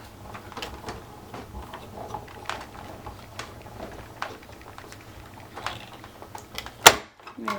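A die cutting machine is hand-cranked with a layered magic mat and top plate fed through. It gives soft, irregular clicks and mechanical rattles at close range, ending in a louder clunk near the end.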